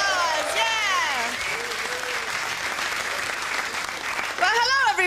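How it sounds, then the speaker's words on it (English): Audience applause and cheering at a comedy club show, loud and sustained through the whole stretch, with a host's voice talking over it at the start and again near the end. "Come on, nice round of applause."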